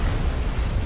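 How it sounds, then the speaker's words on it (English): A brief, loud explosion sound effect, a dense rumbling burst lasting under a second with no voices. "I heard the explosion"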